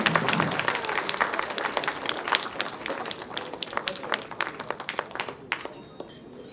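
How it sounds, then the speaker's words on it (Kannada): A crowd applauds at a teaser launch event for the action thriller film Phoenix. Dense, sustained clapping fills the room and thins out slightly toward the end. "ಪ್ಲೀಸ್ ಚಪ್ಪಾಳೆ ಅವರು."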